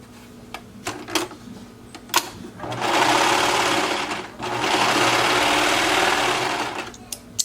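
A sewing machine joins the back piece of a sewn project to the front piece: scattered clicks and handling noises, then two long steady runs of loud, close stitching with a brief pause between them.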